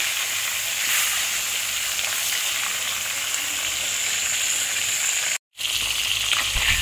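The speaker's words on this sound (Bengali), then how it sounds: "ওই চারটে মাথা আমি প্রথমে ভেজে নিচ্ছি" Kalbosh fish heads frying in hot oil give a loud, steady sizzle that holds throughout, cut by one brief silence near the end.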